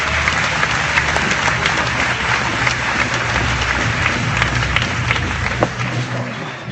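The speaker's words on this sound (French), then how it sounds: "Je voudrais qu'on les applaudisse pour leur excellent travail." Arena crowd at a combat sports event applauding the fight referees, a loud continuous wash of clapping with crowd murmur, sustained throughout.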